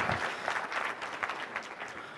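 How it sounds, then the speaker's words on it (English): A conference audience gives a round of applause for the panelists at a Bitcoin event, with dense, sustained clapping from many hands that stays fairly loud and even for a couple of seconds, and nobody speaking. "Let's give a round of applause for Plamen and all the panelists he has gathered here for you guys."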